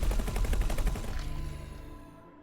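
Ship weapon in X4: Foundations firing a short rapid burst of pulsing shots for about a second, then fading out in a long decaying tail.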